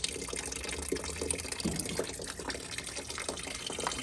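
Antifreeze gushes and splashes steadily into a car's engine radiator, fairly faint, with small bubbling and gurgling sounds throughout.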